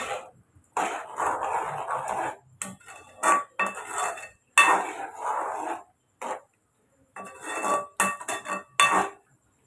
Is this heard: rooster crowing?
no